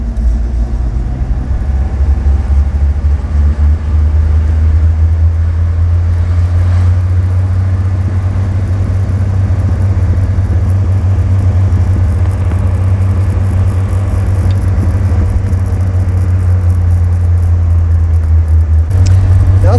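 A steady, loud engine and road rumble heard from inside a moving Alfa Romeo Spider Veloce on small village roads, droning continuously with no voices.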